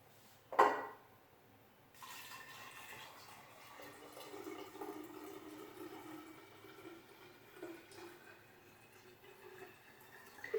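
Room temperature water pours steadily into a jar after a brief clink, with a soft continuous splashing that holds for several seconds at low volume.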